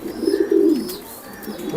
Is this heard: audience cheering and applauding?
no